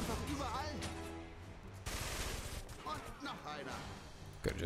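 Soldiers' gunfire in the strategy game BlitzKrieg 3 during the invasion of Poland: rapid, overlapping rifle and machine gun shots crackling throughout, mixed with game voices and chatter, fairly quiet overall.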